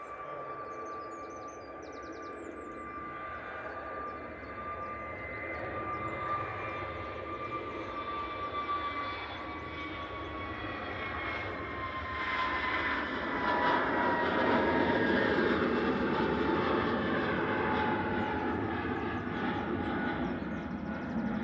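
EasyJet Airbus A321neo taking off from Manchester Airport bound for Malaga: a whining engine tone sliding gradually downward over a broad roar that swells louder midway as the jet climbs out, with no voices.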